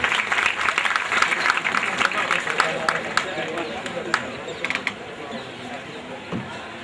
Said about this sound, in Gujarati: તાળીઓના નાદથી વધાવીએ